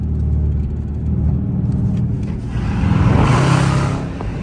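A 5.7 HEMI car engine downshifting while driving through the city, a loud steady engine drone heard from inside the car that swells with rising revs and a rushing roar midway, no talking.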